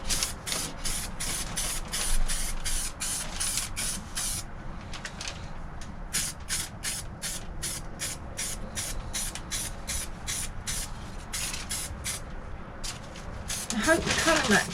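Rapid bursts of spray paint hiss in short, regular pulses as a thicker coat goes on under the bonnet of an Austin Allegro, close and steady, with brief pauses between passes and a louder rush at the end.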